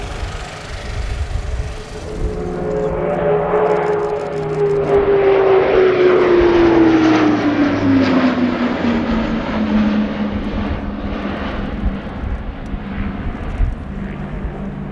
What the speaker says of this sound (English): This is a brilliant display aeroplane.